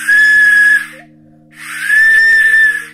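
Two breathy, airy blasts from a handmade simple whistle, separated by a short pause, each holding a steady tone, close and loud.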